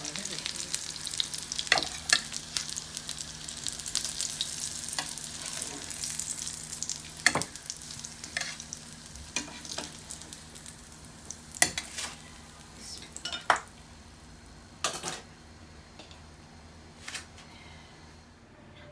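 Tuna and potato kebabs fry over medium heat in a pan, a constant soft sizzle with scattered pops and occasional sharp clicks of utensils against the pan, no voices.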